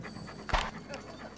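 A dog in a video game pants softly in short rhythmic breaths, with a brief louder bump partway through, faint and close, amid low game ambience.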